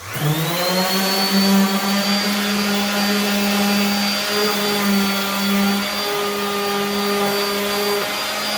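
An electric sander fitted with 180-grit sandpaper and a dust bag whirs steadily and loudly with a constant high whine from start to finish, with no voices.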